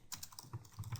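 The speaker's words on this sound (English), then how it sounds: "let's hit enter on the keyboard" Several quick key clicks from a computer keyboard, ending in a firmer press of the enter key, close and fairly quiet with no voices.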